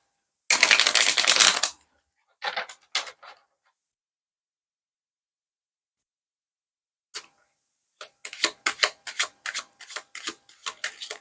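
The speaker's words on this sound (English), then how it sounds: "Let me shuffle it" A tarot or affirmation card deck is riffled and shuffled in short bursts with pauses between, close up and crisp, followed by a run of quick flicking and tapping.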